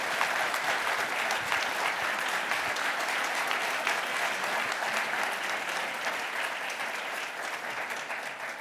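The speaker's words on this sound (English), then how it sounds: "can we give her a round of applause?" A forum audience claps in a steady, sustained round of applause that fills the room, dense and even, tapering slightly toward the end.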